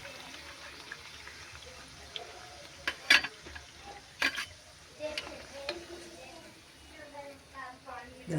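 Two luchi frying in hot oil in a home kitchen, a soft, low sizzle with scattered pops, sharp clicks and utensil taps while someone talks over the cooking.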